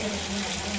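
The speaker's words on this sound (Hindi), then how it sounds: "इस मुख से पानी निकलता है, इसके बाद शिवलिंग के ऊपर गिरता है" Water flows steadily from a cow-shaped spout onto a Shiva lingam at a temple water tank in Rajasthan, a brief, continuous splashing gush heard close up.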